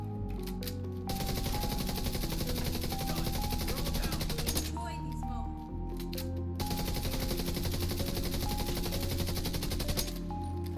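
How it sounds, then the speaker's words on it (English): Rapid, sustained automatic gunfire in The Division 2 while the player sprints, a continuous loud burst of shots with a brief break midway, layered over game sounds. "I'm shooting while sprinting?"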